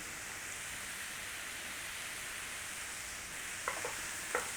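Onions seasoned with salt and pepper sizzle steadily in a pan, a soft continuous hiss with a couple of faint stirring scrapes near the end.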